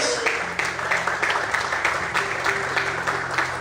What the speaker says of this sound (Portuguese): abre a boca, glorifique o Senhor e aplauda a Deus bem forte